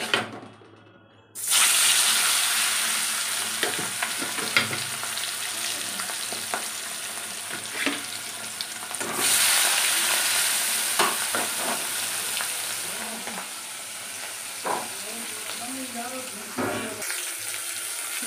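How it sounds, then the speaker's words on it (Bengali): Fish go into hot oil in a pan and set off a sudden loud, crackling sizzle after a quiet moment. The frying hiss keeps going, broken by scattered clinks and stirring knocks, with a second surge partway through. "এই তেল গরম হয়ে গেছে, ঠিক আছে? এই মাছগুলো এবার দিয়ে দেবো।"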